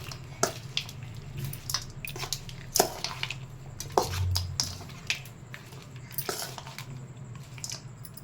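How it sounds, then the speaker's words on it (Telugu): Scattered scraping and soft clinks of a spoon mixing tamarind rice in a metal vessel, irregular and close, with a quiet hum underneath. "ఇప్పుడు బాగా కలిసిపోయేదాకా కలుపుకోవాలండి"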